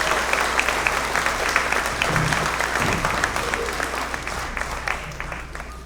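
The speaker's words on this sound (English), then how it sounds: "So let's give you guys one more round of applause for joining us this afternoon." An audience of families at an elementary school first-grade program applauds in a sustained, dense round of clapping that holds steady and slowly fades toward the end, with faint crowd murmur mixed in.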